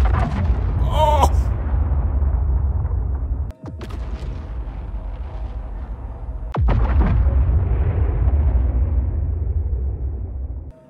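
Heavy bomb blasts in Star Citizen strike a Polaris warship, with sharp booming detonations near 3.5 and 6.5 seconds over a continuous loud rumble, and a voice speaks briefly early on.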